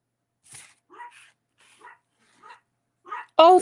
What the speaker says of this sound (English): The dogs are barking at him.